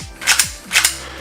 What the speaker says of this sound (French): on remet la glissière sur la frame.